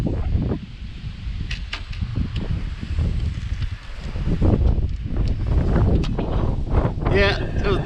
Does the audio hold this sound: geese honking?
no